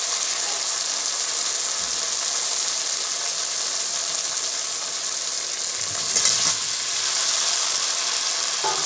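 Boiled kozhukattai rice dumplings tossed into frying masala in a pan, a dense, continuous close sizzle with faint stirring movement and a brief louder rustle near the end.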